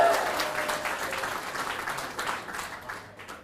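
A crowd at a Larry Sharpe campaign rally in Binghamton, New York applauds in a steady patter of many hands that slowly fades, with voices mixed in underneath.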